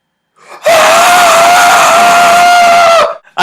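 A person vocally imitates a burglar screaming after stepping on a nail, one long loud sustained yell lasting about two and a half seconds, close to the microphone.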